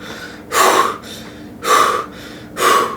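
A person loudly imitates heavy, gasping breaths after feeling car sick, three strong rasping inhales spaced about a second apart, close to the microphone with quieter breathing between them.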